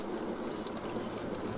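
A down empty mineral train running on a model railway layout, a continuous soft rolling rumble with faint clicks of wagons over rail joints, steady and fairly quiet.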